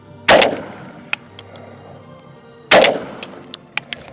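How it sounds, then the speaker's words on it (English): Two loud buckshot blasts from a Turkish Benelli-clone shotgun fired at a target about 100 yards away outdoors, spaced a couple of seconds apart, each followed by faint echoes and small distant impacts. "Now we're gonna do some buckshot shooting from distance"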